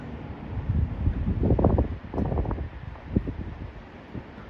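Steady wind buffeting the microphone, a broad rushing roar that swells and fades in gusts, no voices.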